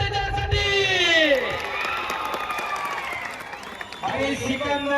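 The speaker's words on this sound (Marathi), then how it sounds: "टाळ्या करा त्याच्यासाठी" A crowd at a village wrestling competition in Narayangaon claps and cheers for wrestler Sikandar Shaikh. The applause stays under a loud announcer's voice over a PA and swells again near the end.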